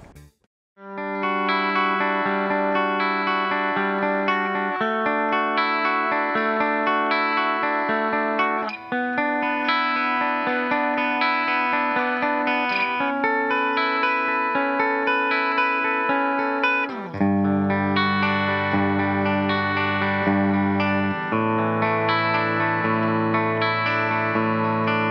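A 2017 Gibson Les Paul Faded electric guitar plays sustained chords and notes through a chorus and distortion effect, loud and close, changing chords every few seconds over a steady ringing tone, with no voice.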